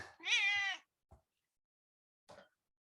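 A cat meows once, long and clear and close, followed by two short, quieter chirps spaced apart in otherwise near silence.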